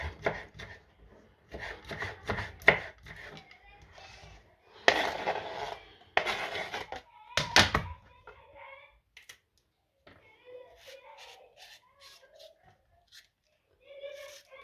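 Knife chopping freshly picked garden green onions on a board in a home kitchen, a run of quick close taps in bursts with pauses, some louder clustered cuts midway, and light background noise.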